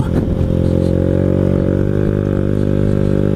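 A Honda Ruckus scooter rides off-road across grass, its small engine droning loud and steady and close up throughout, with a bit of rattle near the start.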